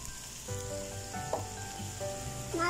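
Green chillies sautéing in a pan while preparing sheri fish pollichathu, a steady close sizzle with soft crackles and faint stirring, no voices.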